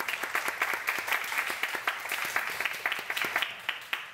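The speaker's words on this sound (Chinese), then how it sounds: "我们是不是请大家用最热烈的掌声欢迎我们陈" An audience applauds steadily with dense, sustained clapping to welcome a researcher at a roundtable talk on US pork imports, the applause filling the whole stretch at moderate loudness.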